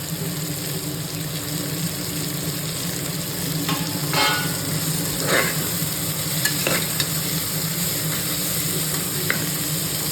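Mint and coriander leaves sautéing in a pan for mutton biryani, a continuous sizzle with a few scattered stirring scrapes, no talking.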